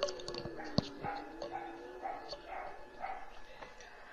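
Dogs bark repeatedly from a distance, sharp yips and barks scattered through the clip, faint behind a quiet room with a voice talking.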